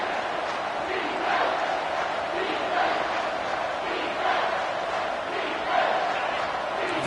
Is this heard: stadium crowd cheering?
yes